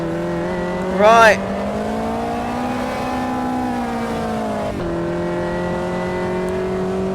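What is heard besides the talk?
race car braking for a corner in Automobilista 2 video game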